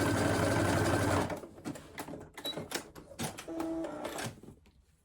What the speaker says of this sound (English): I'm going to have to go sew really carefully so it doesn't bunch up